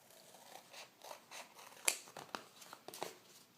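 Scissors snip through a thin 9 by 12 paper card panel for a balloon shaker card, a run of quiet crisp cuts with one sharper louder snip near the middle.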